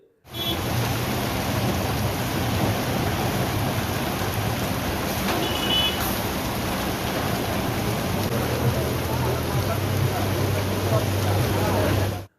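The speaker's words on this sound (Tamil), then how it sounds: "இடி மின்னலுடன் கனமழை கொட்டியது" A thunderstorm brings heavy rain in a loud, continuous, dense roar that stays steady throughout, with a low rumble running underneath.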